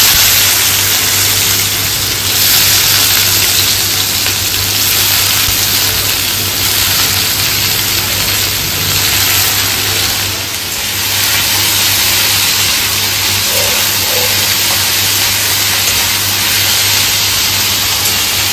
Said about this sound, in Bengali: মা তেলের ওপরে একটু রাঁধুনি দিল, আর সরু সরু করে আলু কেটে রাখা আছে।